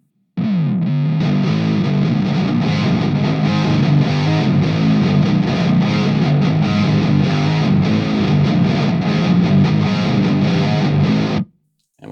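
Low-tuned, heavily distorted electric guitars layered with an octave doubling, playing a dense, continuous riff at steady loudness for about eleven seconds before stopping abruptly.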